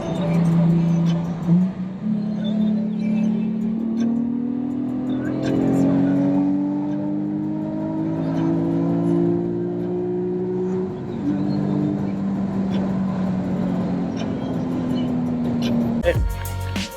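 A Nissan 350Z with an aftermarket exhaust revving and pulling through gears, a droning engine note that climbs steadily, dips at a shift and climbs again before cutting off abruptly, with faint background noise.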